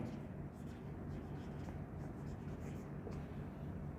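Pen or chalk writing during an engineering lecture on synchronous machines, a soft continuous scratching under a low room hum, with no talk over it.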